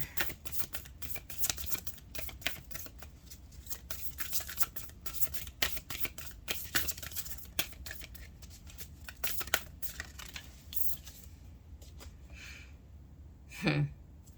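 Rose Oracle cards being shuffled close by, a dense run of quick papery riffles and taps that thins out toward the end, with a soft breath near the close and no talk.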